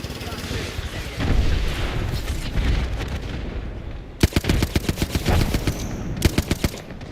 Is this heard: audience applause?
no